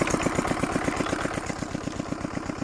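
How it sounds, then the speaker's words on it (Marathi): An engine runs a water pump to irrigate Kesar mango saplings during a power cut. It chugs nearby in a fast, steady, even thumping rhythm, with no voices. "लाईट गेली म्हणून आपण इंजिन चालू केले आणि इंजिनवर आता आपण पाणी देणार आहे."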